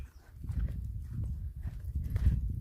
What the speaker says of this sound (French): Ah, il y a des chevaux, là.